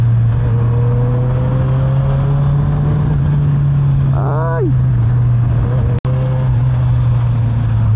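Car engines drone and hum through heavy road traffic from inside a vehicle, with a steady low rumble, a vehicle revving past midway and a sharp click near the end; a voice exclaims briefly.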